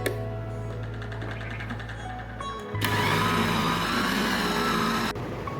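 A blender whirs steadily while mixing a mutton nugget mixture, its motor tone jumping to a louder, busier pitch partway through before easing back; close up with no speech.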